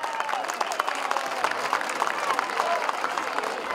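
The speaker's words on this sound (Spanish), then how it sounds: "El aplauso fuerte para ese jinete," Scattered applause from a crowd at a jaripeo rodeo after a bull rider's run, fairly distant and modest in volume, with an announcer's voice over a loudspeaker.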